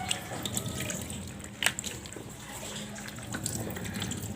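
Fish, bulinaw, are washed under a running tap, giving a continuous close splash of water with scattered drips and a brief louder splash midway, with no voices.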